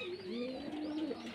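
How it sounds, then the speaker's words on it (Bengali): A male pigeon on a Bangladeshi pigeon farm gives a soft, rolling coo, a continuous low warble close by and fairly quiet, without speech. "এটা নর কবুতর"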